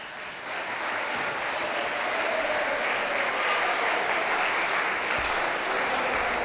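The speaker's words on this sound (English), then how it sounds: "please stand up and welcome all those teachers with round big applause" At a Teachers' Day gathering, a standing audience gives teachers a long round of applause. The dense, continuous clapping builds slightly and holds a full, even level, with no talking over it.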